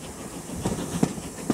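A Severn Valley Railway heritage train runs along with a low steady rumble and hiss, broken by a few soft rhythmic clanks from the carriages.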